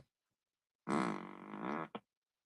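Fart sound effect, a single sustained buzzing blast about a second long with a brief extra pop after it, alone against silence.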